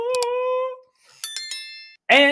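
A bicycle bell rings in bright metallic dings, two quick rings then a burst of several more, loud and close, and a voice breaks in at the end.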